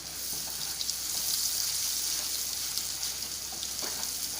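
A kadai paneer masala of paneer and spices, salted, is stirred and fried in oil over medium gas. It gives a soft, continuous sizzle with faint occasional scraping and no talk.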